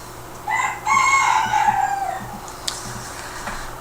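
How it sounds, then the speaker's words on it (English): A rooster wandering into a yard crows once, a clear, fairly close cock-a-doodle-doo rising and trailing off, followed by a few faint clucks against quiet background noise. "there's a rooster from somewhere in the area that keeps coming into the yard"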